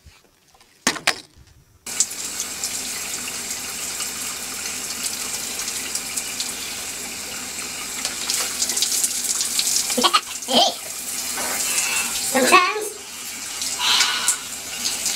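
Shower water running steadily in a bathroom, a broad continuous hiss after a brief start, with someone talking over it and some splashing shifts near the end.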